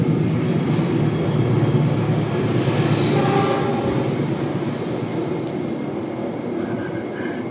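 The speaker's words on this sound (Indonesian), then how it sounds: "Keretanya lewat." A train passes close by, filling the scene with a loud, continuous rumble and rattle that swells and then slowly eases over several seconds.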